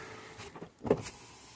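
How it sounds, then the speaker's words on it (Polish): Car electric power window motor whirring briefly on a reassembled door, a short close hum that rises and stops within about a second in a quiet garage. "Sprawdzamy szybę, czy działa."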